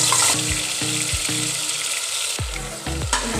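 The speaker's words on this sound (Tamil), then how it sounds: "எண்ணெய் சூடானதும் நம்ம அரைச்சி வச்சுருக்க இந்த வெங்காயம், பூண்டு, இஞ்சி, பச்சை மிளகாய் அரைச்சி வச்சுருக்க இந்த பேஸ்ட்டை நம்ம இதில் ஆட் பண்ணிக்கலாம்." A paste of onion, garlic, ginger and green chilli sizzles loudly in hot oil, with a spoon repeatedly scraping and stirring through it in a loose rhythm.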